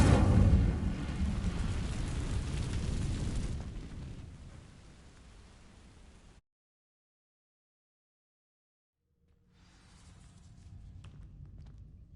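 A fire spell cast in the wizarding action game Hogwarts Legacy, a loud whooshing roar of flame that fades over several seconds, then silence before quieter ambience returns.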